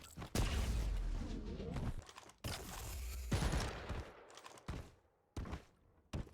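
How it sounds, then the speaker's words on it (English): Rapid bursts of nail gun fire in the arena shooter Quake Champions, loud and close, with several short volleys and sharp gaps of near silence between them. "That enemy is aiming for you from the nail gun."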